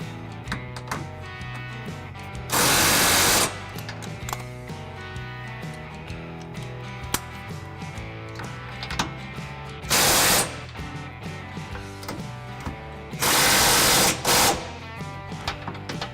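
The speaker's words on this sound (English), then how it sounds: "for the most forward bolts provided by the Hitch manufacturer, I'm going to switch over to a 3/4 inch socket." Power tool with a 3/4 inch socket driving trailer hitch bolts on a 2017 Chevy Silverado 1500, loud close bursts of buzzing drive, three separate runs against a steady background hum.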